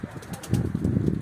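A tumbler pigeon beats its wings in flight, a quick run of soft, close flutters that grows a little louder over about a second.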